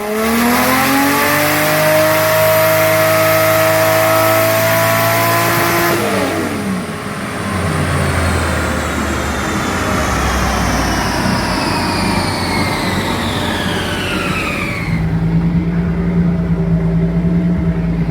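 A 2JZ-swapped Nissan 240sx engine under load in a power pull, loud and close, its pitch sweeping upward through the revs, then dropping to a lower steady drone.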